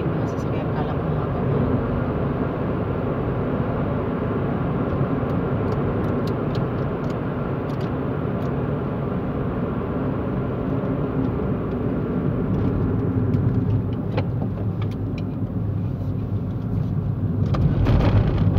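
Steady road traffic with cars passing, heard as a continuous broadband rumble that stays fairly loud and even throughout, rising a little near the end.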